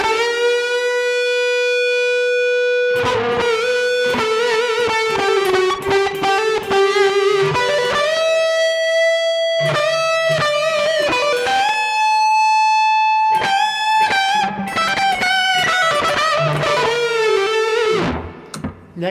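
A sustained electric guitar on the neck pickup, played through a BOSS eBand JS-10, melodic notes ringing out with a lush, spacious reverb tail, loud and without any voices.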